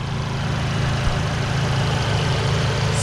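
A 2017 Volkswagen Golf GTI with a 2.0-liter turbo engine, cold air intake and reflashed tune, idles steadily close up, a low, even rumble with a constant drone and no talking.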